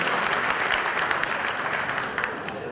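An audience at a Horasan community gathering applauds as a chairman is welcomed to the stage, a dense, continuous roar of many clapping hands that eases slightly toward the end.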